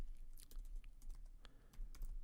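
Quiet, scattered keystrokes from a computer keyboard tap out Java code, soft irregular clicks close by with no talking.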